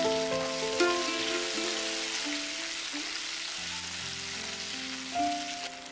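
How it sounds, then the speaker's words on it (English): Mustard seeds, cumin seeds and tomatoes sizzle in hot oil for an Indian curry, a steady close hiss and crackle running throughout, with faint tonal background music underneath. "Now oil is hot, so I am going to add the mustard seeds and cumin seeds. Now add the tomatoes and immediately cover it."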